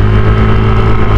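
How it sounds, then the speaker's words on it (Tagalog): A dump truck rolls past on a Diversion Road in Malay, Aklan, its engine a loud, steady low drone filling the short moment without any voices. "Ayun, si dump truck."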